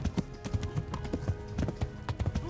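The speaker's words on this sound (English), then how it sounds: "I'm on a horse." Horse hooves in Kingdom Come: Deliverance beat out a fast, rhythmic clip-clop at moderate distance, with a brief snort and no talking.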